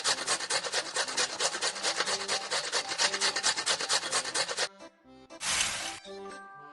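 In a Masha and the Bear cooking video game, ingredients are grated with a rhythmic rasping scrape repeating rapidly for several seconds, then it stops; a brief whooshing swipe follows.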